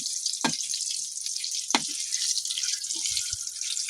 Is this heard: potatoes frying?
yes